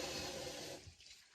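Water runs from a tap during handwashing in a home kitchen, a soft, low-level rush lasting barely a second and a half before it tapers off.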